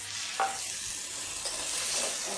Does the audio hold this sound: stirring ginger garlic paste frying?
yes